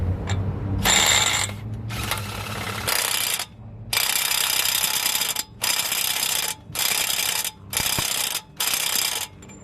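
An air impact gun hammers on suspension bolts of a 2011 Ford Explorer during lower control arm and sway bar link work: a long rattling burst, then a string of about six short, sharp, loud bursts with brief gaps.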